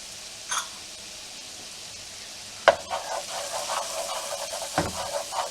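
Garlic and crushed red pepper flakes sizzle in a pan for shrimp scampi, a steady close frying hiss broken by a few sharp stirring scrapes and clinks.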